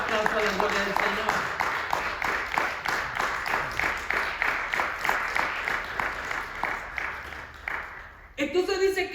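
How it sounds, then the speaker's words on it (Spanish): A church congregation applauds in praise: steady, rhythmic clapping in even beats carries on for several seconds with a voice over it, then a different sound cuts in at the end. "Denle fuerte ese aplauso a la gloria del Señor."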